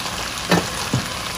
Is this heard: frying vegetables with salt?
yes